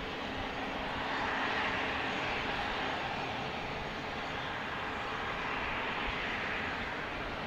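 A C-5 Galaxy military transport aircraft landing at Salt Lake City: a continuous loud, broad engine roar and rushing wind noise, steady throughout with no voices.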